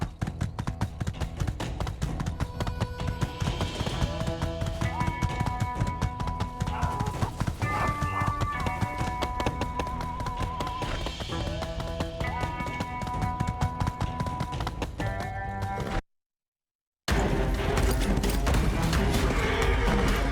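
In the game My Time at Sandrock, a horse's hooves clip-clop in a fast, steady gallop with occasional neighs, layered over continuous game music, with a brief silent gap near the end.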